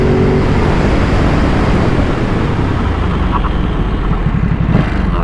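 A Ducati SuperSport 950 S motorcycle ridden at higher speed, a loud continuous engine drone blended with heavy wind rush, recorded on board and steady throughout.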